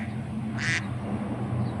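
A duck-like bird foraging along a creek gives a single short quack, fairly faint, over a low background hum.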